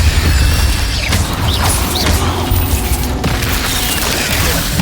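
A fire spell, Incendio, is cast in a Harry Potter video game amid a dense, loud wash of crackling bursts and booming impacts that fill the whole stretch without a pause.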